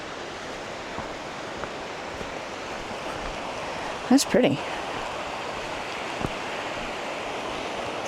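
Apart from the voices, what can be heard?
water rushing over rapids in Deer Creek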